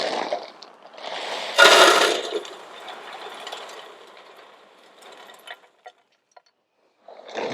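Wood pellets mixed with crushed pecan shells pour into the hopper of a portable pellet grill, a loud rattling rush of small hard pieces that peaks early, then trails into scattered clicks and a few isolated taps.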